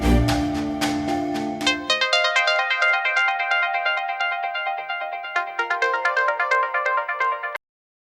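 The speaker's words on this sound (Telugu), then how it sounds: "మనోజ్ ఫోన్ చేసి చెప్పరా." A melodic phone ringtone plays loudly in a repeating tune for several seconds, then cuts off abruptly.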